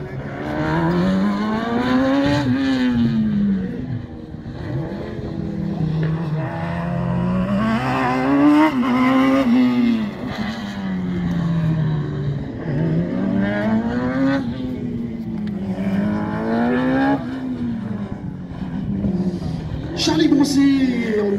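A rally car at a slalom race revs hard through repeated rising and falling engine sweeps, loud and close, with a commentator talking over it throughout.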